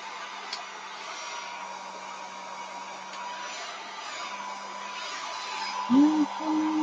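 A hair dryer blows steadily throughout, a constant airy whir drying paint on a gel printing plate, with a faint voice-like sound near the end.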